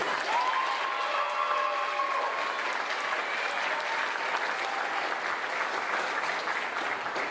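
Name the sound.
applause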